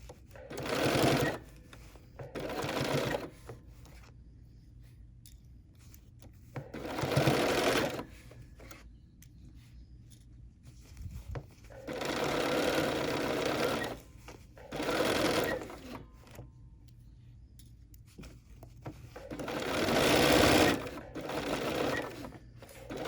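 A Bernina sewing machine stitches a 1/4 inch seam in fabric for a small bear. It runs in about six steady bursts of rapid mechanical chatter, separated by brief pauses.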